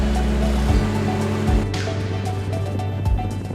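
Flowing water of the Kopu river runs as a steady, loud rushing wash close by, continuous throughout, with a low rumble and occasional dull knocks beneath it.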